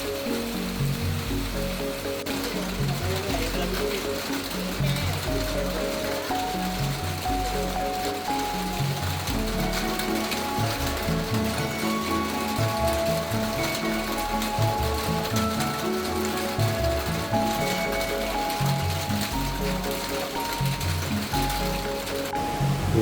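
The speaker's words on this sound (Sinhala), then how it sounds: "හදිස්සියෙම වහින්න පටන් ගත්තා" Steady, dense rain hissing down at a glamping campsite in Bambarakanda near Ohiya, a sudden shower holding a constant even roar throughout with no talk.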